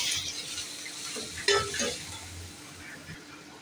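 Soft sizzling and stirring of sliced tomatoes sautéing in a pan, with a few light utensil scrapes and clinks against the cookware; steady, moderately quiet kitchen sounds.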